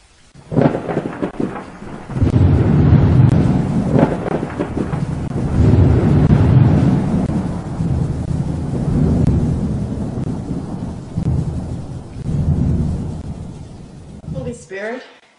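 Thunder rolls and rumbles over steady rain in a storm, with long, loud, deep swells that rise and fade several times. A voice speaks at points underneath, and the sound ends in a short sharp burst.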